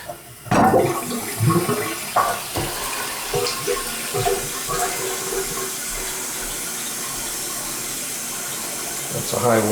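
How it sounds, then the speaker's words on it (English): A 2007 American Standard flush-bucket toilet, an old leaking high-water-usage model, is flushed with a sharp handle clunk followed by a loud rushing gush that settles into steady refill water running, close by. "Alright, this should flush."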